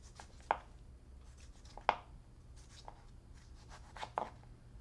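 A knife scrapes cubed mango flesh off the skin in three or four short, distinct scraping strokes, spaced a second or so apart, close by against a quiet background.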